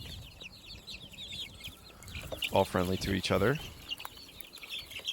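Rescued hatchery chickens clucking in a protected cage with soft chatter in the background and a louder burst of clucks in the middle, while a person talks quietly over them.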